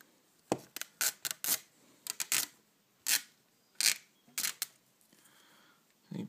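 An orange sticker is peeled off iPod Shuffle packaging up close, giving a quiet series of short crackling rips and clicks in uneven bursts.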